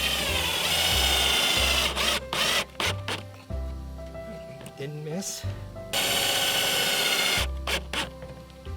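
A power drill bores holes into wood for a homemade Christmas tree box stand, whirring loudly in several bursts that start and stop with pauses, and someone speaks briefly between runs.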